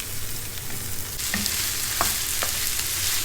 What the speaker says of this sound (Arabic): بعد ما تغير لون البصل راح أضيف الثوم المهروس وأقلبهم شوي مع بعض